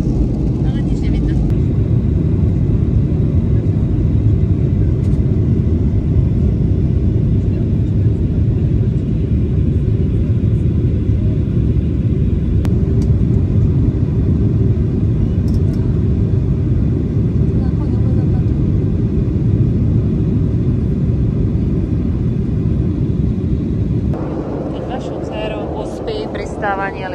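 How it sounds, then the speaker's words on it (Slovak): Steady, loud low-frequency rumble of a passenger airplane landing, heard from inside the cabin on an early-morning flight to Kos, continuous for most of the stretch before dropping slightly near the end, with faint cabin noises on top. "Pristávanie lietadla."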